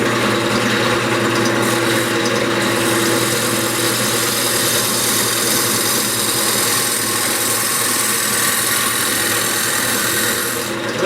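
A 5/8 carbide cutter bar cuts a mahogany candy dish spinning on a woodturning lathe, giving a loud, continuous whirring drone with a steady rough cutting hiss throughout.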